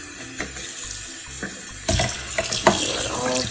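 Water poured over the hair of a Rainbow High doll being customised, a splashing, running stream that starts softly and grows louder and fuller partway through.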